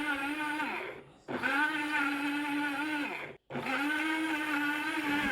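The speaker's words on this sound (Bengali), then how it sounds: "এই যে ব্লেন্ডার এটা কিন্তু কফি গ্রাইন্ডার হিসেবে বিক্রি করা হয়।" A blender marketed as a coffee grinder whirs loudly in three close bursts, each high motor whine rising and holding before cutting off abruptly, with short silent gaps between runs.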